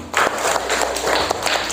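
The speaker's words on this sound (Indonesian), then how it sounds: "beri tepuk tangan." A sixth-grade primary school class claps for a group of classmates in the classroom, a short burst of dense, close applause from the children.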